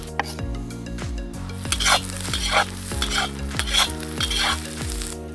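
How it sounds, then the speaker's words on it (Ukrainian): Onions and carrots sizzle steadily in a hot pan while a utensil stirs and scrapes through them in repeated strokes, close and fairly loud. "Цибулька з морквою смажиться орієнтовно 3 хвилини"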